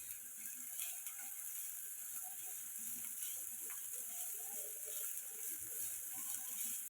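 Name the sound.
finely chopped onion frying in oil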